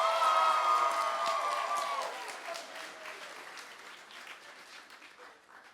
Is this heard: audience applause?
yes